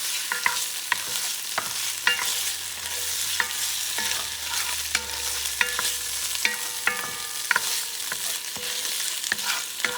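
Salchichon sausage fries in a pan with a steady broadband sizzle, while a utensil stirs it in repeated sharp scrapes and clacks against the pan, close and fairly loud throughout.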